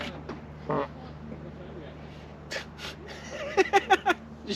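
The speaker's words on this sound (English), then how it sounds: "Some ducks out here." Ducks quack on open water near a small boat, a quick run of four or five sharp calls close together near the end, with breathy noises and a brief voice earlier in the clip.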